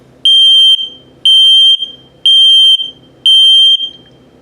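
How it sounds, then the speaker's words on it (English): An RV's combined LP and carbon monoxide detector sounds its low-battery alarm from close by: four loud, sharp, high-pitched beeps at about one per second, with a short quiet gap after each. "now low battery alarm"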